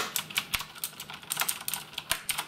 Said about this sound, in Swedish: det här är då ett mekaniskt tangentbord